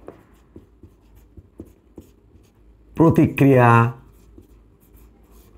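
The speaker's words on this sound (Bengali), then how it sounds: "আবারও লিখলাম ক্রিয়া প্রতিক্রিয়া বল।" Someone writes on a board with a row of short, sharp taps and scratches, each stroke distinct, and a voice speaks briefly partway through.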